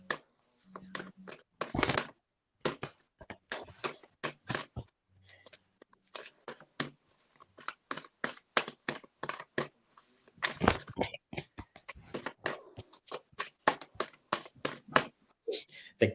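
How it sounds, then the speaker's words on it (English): Playing cards being shuffled repeatedly by hand in a casual indoor setting, a rapid run of crisp riffling bursts and snaps at close range, with short pauses between shuffles and no talk. "You got a card shuffle and all that."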